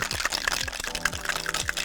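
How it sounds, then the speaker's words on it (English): A cocktail shaker with four ice cubes and egg white for a whisky sour rattles in quick, rhythmic shakes, ice knocking sharply against the metal walls. "give it a really good shake"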